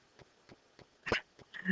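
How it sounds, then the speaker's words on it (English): A dog barks once, fairly loud but somewhat distant, between a series of soft regular taps in a quiet room. "I don't know if you guys just heard a dog bark"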